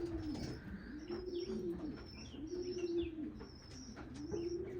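A grizzle racing pigeon coos in repeated low, rolling phrases, close and clear, with faint higher chirps from other birds around it.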